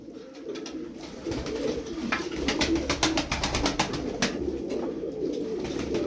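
Pigeons coo repeatedly among the game birds, a steady layered cooing that swells in the middle and carries on without talk.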